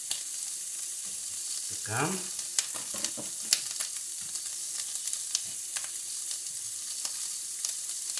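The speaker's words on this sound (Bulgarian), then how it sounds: "Сега слагам леко да се запържат карначетата." Karnache sausages frying in a pot give a steady, quiet sizzle and crackle with scattered small pops and some stirring, and one word is spoken near the start.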